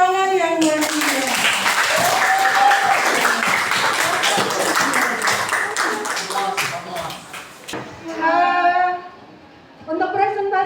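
A classroom audience applauds after a student presentation, a dense wash of many hands clapping that runs loud for about eight seconds, then thins while a voice speaks over the fading claps.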